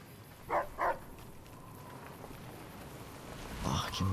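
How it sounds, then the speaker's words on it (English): Two short barks from a dog in the video game Fallout New Vegas ring out near the start against a steady rain-like background hiss, followed later by a brief rougher burst near the end. "Barking for danger."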